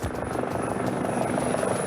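An unmarked military helicopter of a Canadian special operations regiment flies with a steady, loud rotor thrum and engine whine that fill the whole moment.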